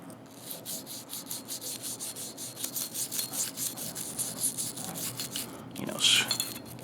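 A brush scrubs a Springfield XDS pistol during cleaning, giving steady close rhythmic bristle strokes with a brief louder burst near the end.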